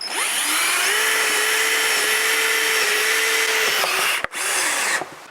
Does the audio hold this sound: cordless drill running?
yes